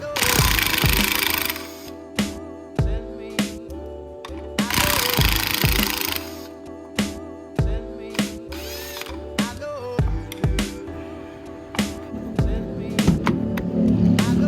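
An impact gun works on the 17 mm tension rod bolts of a Nissan 240SX S14 front suspension while fitting Nismo lower control arms. Loud rattling bursts alternate with sharp metallic clanks and ratcheting clicks in a garage.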